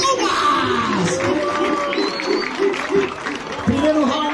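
A lively crowd cheers, whoops and shouts over scattered applause, with voices calling out throughout the noisy, energetic din.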